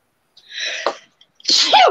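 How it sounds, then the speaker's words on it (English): Two sneezes from a person in quick succession, each a short breathy burst, close and loud, with silence around them. "I'm sneezing for no reason."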